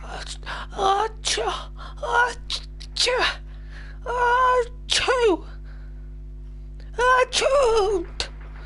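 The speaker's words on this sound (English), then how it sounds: "That's a hentai sneeze" Exaggerated, breathy, high-pitched anime-style sneezes and gasps come in a series of short voiced bursts during a Rainbow Six Siege match on PS4. The bursts are close and separated by brief quiet gaps over a low constant hum.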